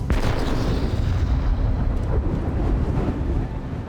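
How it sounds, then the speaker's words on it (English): A historic naval cannon test-fired with the muzzle angled below horizontal gives one loud, sharp blast at the start. Heavy low rumble and roaring wind-like noise follow and hold steady without any talk. "Amazingly, even with the gun pointing down, the shot is still going skywards."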